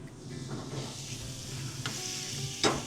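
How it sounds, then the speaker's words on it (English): Steak sizzles steadily in a hot pan, a close crackling hiss with a couple of brief scraping stirs. "That's what we're looking for, is just that nice, beautiful sizzle."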